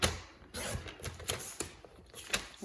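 Card stock being cut to 2 inches for a fold card, with a series of short crisp slicing and trimming strokes close by, irregularly spaced over faint background noise.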